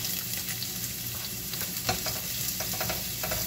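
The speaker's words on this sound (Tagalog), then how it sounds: "ngayon guys, lagyan natin siya ng cooking oil. Lagyan natin guys yung ating onions." Onions sizzling in hot cooking oil in a pan, a steady close frying hiss with scattered crackles and faint stirring scrapes throughout.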